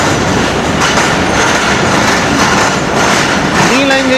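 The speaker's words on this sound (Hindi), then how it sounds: "11 हज़ारा एक्सप्रेस जो है आ गई है।" Hazara Express passenger train pulling into Rawalpindi railway station, a loud, continuous rumble and rattle of wheels and cars close by, with a brief squeal near the end.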